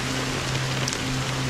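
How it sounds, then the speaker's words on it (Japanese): Steady rain falling during a video game boss fight, a dense, even hiss of drops without pause, loud and alone with no voices. "だが雨はまだ止んでいない。"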